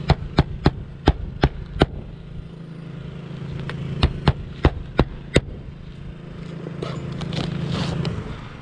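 Nails hammered into a roof vent in sharp, loud strikes, first a quick run of about seven blows, then a pause and another burst of five, with a low ambient hum between.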